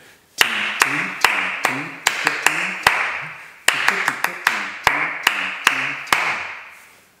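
Claps and sharp cup taps ring out in an eight-beat cup-beat pattern repeated twice, crisp strikes with short hollow ringing tails and a brief pause between the two rounds.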